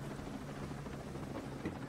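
Helicopter in the video game Ghost Recon Breakpoint, a steady low rotor drone with faint thumping that holds at an even level, moderately distant, with no talk over it.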